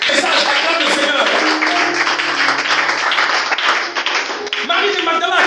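A church congregation at a Sunday service applauds and acclaims Jesus, with steady clapping and cheering continuing under a loud voice that keeps speaking over the crowd.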